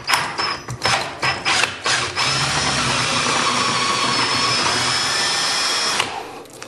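A power drill bores out a stuck screw in a door, starting with several short bursts and then running in one loud continuous whine for about four seconds before winding down.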